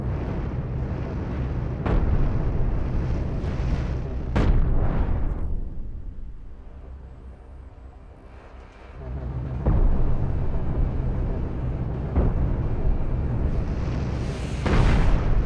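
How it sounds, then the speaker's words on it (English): Heavy booming cannon blasts and explosions from space battles in the ship-building game Cosmoteer, with a deck cannon among the guns, come in irregular volleys with sharp attacks and long rumbling tails, then ease into a brief lull before resuming. "Oh shit, he's got a deck cannon."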